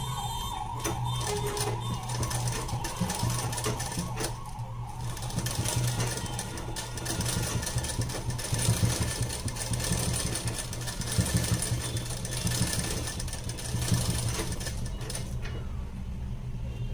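Sewing machine stitching a blouse, a steady close mechanical whir with rapid needle chatter running almost continuously, slightly varying in pace.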